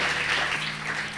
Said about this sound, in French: Quelqu'un peut acclamer très fort le Seigneur.